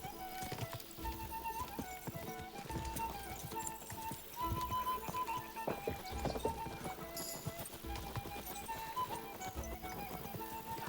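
Continuous galloping hoofbeats from a tireless horse in Kingdom Come: Deliverance II, a fast, even clip-clop held close and loud throughout, with game sounds layered around it.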